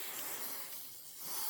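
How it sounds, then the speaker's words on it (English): Spray adhesive hisses from an aerosol can into a quilting hoop, a soft, close, continuous airy rush lasting just over a second, swelling slightly at the end, with no voices. "I'm just going to spray in the hoop."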